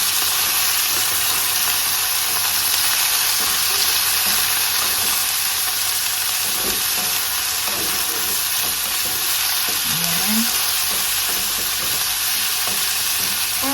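Mixed vegetables stir-fried in a pan, giving a loud, continuous sizzle with occasional scraping from stirring, close up and steady throughout with no talking.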